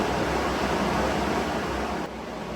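Steady, loud whooshing air-resistance fan noise from a Wattbike Pro indoor training bike during a hard effort, a broad continuous rush that dips slightly near the end, with no speech.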